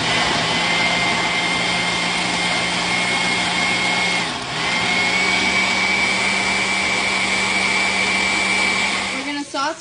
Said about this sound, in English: We're going to go ahead and start to blend.